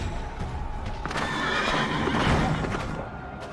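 A horse neighs in Final Fantasy XIV, a loud whinny rising over a busy backdrop of battle and hoofbeats, with a faint voice briefly underneath.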